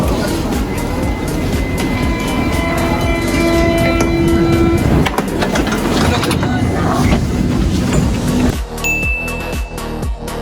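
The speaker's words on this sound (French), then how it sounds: "On est dans le métro de Lille, Villeneuve d'Ascq en fait." A Lille metro train at Villeneuve d'Ascq runs steadily and loudly throughout, with a continuous rolling rumble and whine, rhythmic clatter over the rails, and a change in tone near the end.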